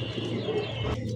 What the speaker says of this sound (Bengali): এটা কি এটা শাটিন কবুতর